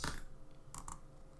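Terminal commands are typed on a Mac keyboard with a few quick, close key clicks in a quiet room.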